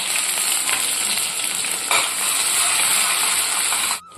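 Finely chopped onions and two small green chillies sauté in hot oil with crackled mustard seeds for a Kathiyawadi dhokli shaak, making a steady, close sizzling hiss that cuts off abruptly near the end. No talking.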